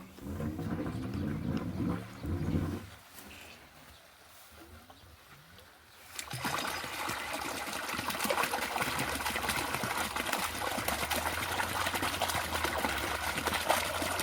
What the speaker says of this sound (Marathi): आता डायरेक्ट टाकीत पाणी